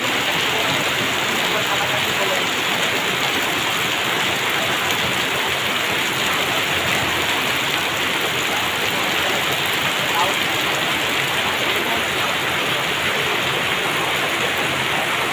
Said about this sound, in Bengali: আমাদের গ্রামের গ্রামগঞ্জে যে বৃষ্টিগুলো হয় অনেক সুন্দর